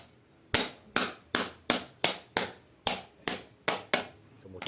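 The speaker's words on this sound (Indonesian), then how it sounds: "kita padatkan dengan palu" About ten sharp, evenly spaced hammer blows compact wet concrete in a star-patterned decorative block mold, each strike ringing briefly before the next.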